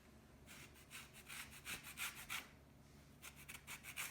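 Lemon zest is grated on a grater with quiet rhythmic rasping strokes, a dozen or so brisk scrapes in bursts, close and soft with no talking.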